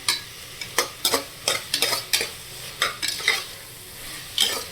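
Onion, tomato and capsicum being stirred in a frying pan, a series of sharp rhythmic scraping strokes over a low sizzle, close and distinct, with no voices.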